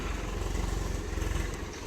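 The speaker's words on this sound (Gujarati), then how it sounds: "કાકાનું ખેતર ખેડાય છે આ બાજુ ઘરનું ટ્રેક્ટર" A tractor ploughs a farm field, its diesel engine chugging loudly and steadily up close with a rough, rhythmic rumble.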